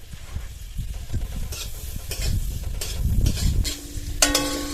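Capsicum stir-fried in a kadai, crisp sizzling under repeated scraping strokes of a spatula against the metal pan, close and lively, with a brief clink near the end.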